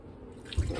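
Pineapple juice and water poured into a measuring cup for a coconut cake, a short liquid splash and trickle rising near the end, fairly quiet with no talking.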